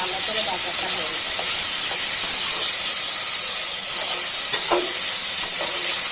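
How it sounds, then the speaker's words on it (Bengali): Potatoes and onions frying in a pan with bay leaf while cooking a village-style broken-rice dish, giving a steady loud hiss and sizzle throughout with faint clinks. "আলুটা পেঁয়াজটা ভালো করে ভাজা হয়ে গেছে।"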